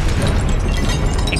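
A loud, roaring burst of fire erupts as the Incendio spell is cast in Hogwarts Legacy, a dense, sustained whoosh with crackling pops throughout.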